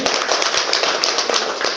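An audience applauds a speaker, Madam Girija, with loud, dense, steady clapping that fills the whole moment without letup.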